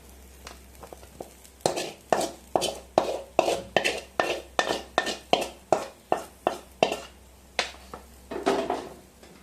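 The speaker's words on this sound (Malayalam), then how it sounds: "ഇനി ഇതിലേക്ക് നമ്മൾ വേവിച്ച് വെച്ചിരിക്കുന്ന പയർ ഇട്ട് നമുക്കൊന്ന് ചിക്കി തോത്തിയെടുക്കാം" Cooked long beans are stir-fried in a pan for thoran, with a spatula scraping and tapping against the pan in a fast, steady rhythm, loud and close.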